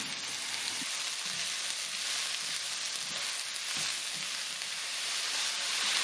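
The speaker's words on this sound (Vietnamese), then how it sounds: "Như vậy rồi mình mới cho nấm vô xào." Mushrooms stir-fry over high heat with minced shallots that have turned brown, giving a continuous close sizzle with soft stirring scrapes throughout.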